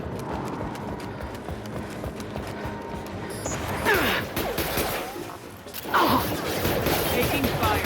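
Gunfire rattles in bursts during a firefight in the video game Mass Effect 2, with sharp overlapping shots and impacts amid game sound effects and a voice speaking.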